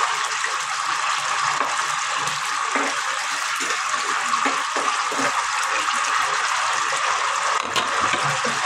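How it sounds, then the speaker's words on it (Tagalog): Water pours steadily into a cooking pot holding noodles and sardines, a continuous splashing gush that stays even and close throughout. "Paglagay natin ang tubig."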